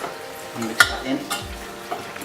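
Teaspoon of garlic stirred into oil in a pan for pasta sauce, a soft sizzle punctuated by a few distinct scraping stirs and light utensil knocks.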